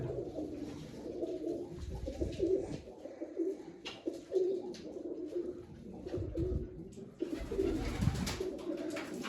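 A white-eyed teddy pigeon cooing, with steady low throaty coos repeating through the whole stretch, close by and alone against faint background hiss.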